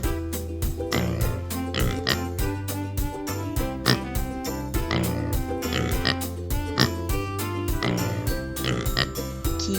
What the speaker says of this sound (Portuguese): Porco!